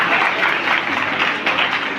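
A hall audience gives loud applause in honour of Anuj Singh at a district poster competition launch. The clapping is dense and steady throughout, with a few sharper peaks.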